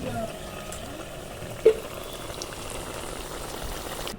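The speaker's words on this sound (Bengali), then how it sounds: "আঁচটা কিন্তু জোরে রাখতে হবে এই নাস্তাগুলো ভাজার সময়তে মিটমিটে আঁচ রাখলে হবে না" Raw potato snacks deep frying in hot oil on high flame, a soft steady bubbling crackle with one brief clink, moderately faint and close.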